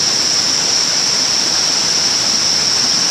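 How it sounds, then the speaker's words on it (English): A small, clean stream flows past an old water main line, making a steady, continuous rush of water at close range with no talking. "here's what a stream looks like when it isn't being polluted."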